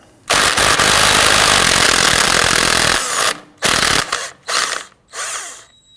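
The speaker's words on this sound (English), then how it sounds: "loosen and remove the axle nut." A power socket wrench, 13mm, loosening and removing the front axle nut on a 2009-2017 Volvo XC60 during a wheel bearing and hub job. One long, loud whirring rattle comes first, then three short, sharp bursts, all very close.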